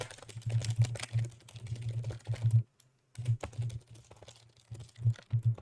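Rapid clattering keystrokes on a computer keyboard, close and crisp, in quick bursts with one brief pause before the typing resumes.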